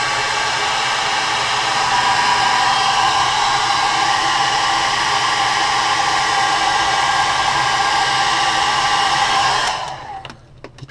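Heat gun blowing hot air to set paint on a crankbait lure, a loud steady rushing whoosh held close for about ten seconds before it cuts off.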